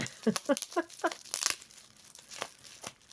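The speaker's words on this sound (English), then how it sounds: "This tape is not cooperating." Sticky tape is pulled and torn from a parcel in several short, sharp ripping bursts, four quick crackly tugs followed by a longer tear and a few softer peels, close and fairly quiet with no speech.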